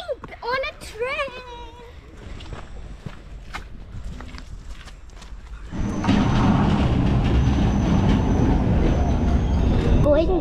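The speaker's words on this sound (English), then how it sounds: "We're going on a train." A train running on rails near Mont Blanc in France: short children's voices and scattered clatter come first, then a loud, steady rumbling roar takes over for the last several seconds.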